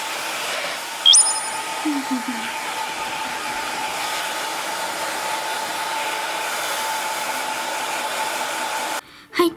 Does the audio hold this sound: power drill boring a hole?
no